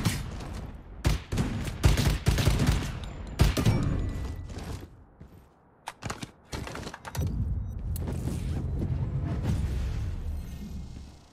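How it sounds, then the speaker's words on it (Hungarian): Dense gunfire in the PC survival shooter Lost Light, with rapid bursts and fusillades of loud shots crowding together, a brief lull near the middle, then sustained firing that carries on to the end. "Már lövöldöznek"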